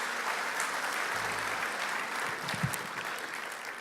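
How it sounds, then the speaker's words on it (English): An awards-night audience gives a round of applause for presenters and award winners, with steady, moderately quiet clapping heard alone for a few seconds. "How about a big round of applause for all of our presenters and all of our award winners?"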